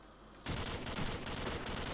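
Rapid automatic gunfire in Call of Duty 4, a dense burst of shots that starts abruptly and continues for more than a second, loud and close.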